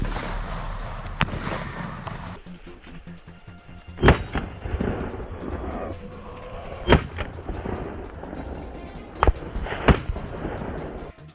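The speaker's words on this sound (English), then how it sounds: "A burst of gunfire rang out," Sharp, loud gunshots crack out at irregular intervals at a wild boar on a farm, a few single shots and close pairs, over a rumbling outdoor background.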